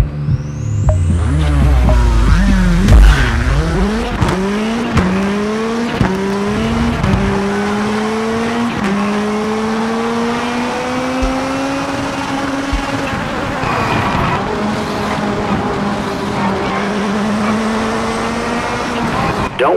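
A rally car engine revs and shifts through gears in the racing game V-Rally 4, the loud whine rising and falling with each shift and then holding a steady high drone, with tires scrabbling near the start.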